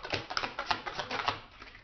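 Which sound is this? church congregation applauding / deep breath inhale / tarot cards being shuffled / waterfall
tarot cards being shuffled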